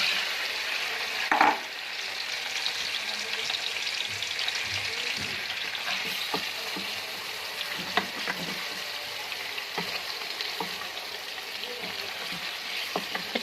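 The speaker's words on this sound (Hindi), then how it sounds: "इसमें चिकन ऐड करके अच्छी तरह करेंगे फ्राई" Chicken frying in a karahi, a steady close sizzle with intermittent stirring scrapes and occasional utensil knocks, without talk.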